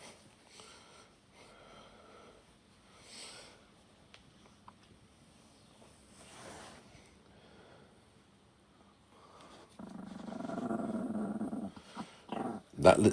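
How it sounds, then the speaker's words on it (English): A small chihuahua gives a low, rumbling growl near the end, rising louder in the last few seconds after a quieter stretch of faint snuffling and sniffing close by. "That's the growl of the little chihuahua who thinks he's a big dog."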